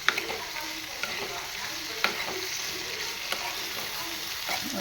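Cashews and potatoes sauté in hot oil in a pan for a Malvani cashew-potato bhaji, giving a steady close sizzle with occasional sharp stirring scrapes and clicks throughout.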